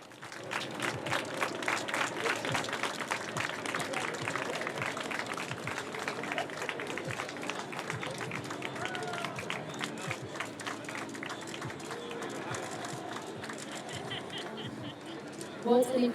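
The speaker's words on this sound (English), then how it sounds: "Let's give them a round of applause." Steady, dense crowd applause at a sailors' parade in Gothenburg, many hands clapping continuously at a moderate distance, with faint voices mixed into the din.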